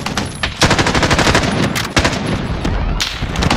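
Rapid automatic gunfire in Call of Duty Warzone, loud, close bursts that rattle almost continuously, with a few heavier single shots cutting through.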